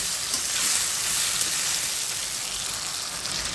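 Turmeric- and salt-rubbed potato pieces fry in hot oil with a continuous, even crackling sizzle, like rain on a surface, with no voices.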